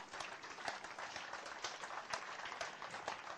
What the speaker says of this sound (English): Let's give him a big round of applause.